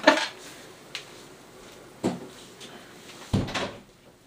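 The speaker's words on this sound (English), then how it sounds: "I'm going to shut the door." A door is shut indoors, giving several separate knocking thuds about a second apart, moderately close in a quiet room.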